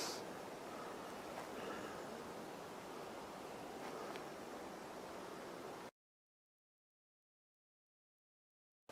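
A soft, steady breeze hisses across a still mountainside for several seconds, even and faint, then cuts to silence.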